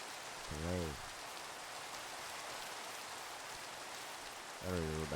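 Steady rain falls in the Minecraft game world, a continuous even hiss throughout, with short tonal game sounds briefly at the start and near the end.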